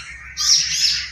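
Pet birds chirping indoors, a bright high twittering that swells after a quiet start and continues in quick overlapping calls, close and fairly loud with no talk.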